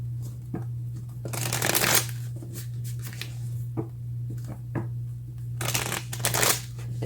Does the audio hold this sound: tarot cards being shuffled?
yes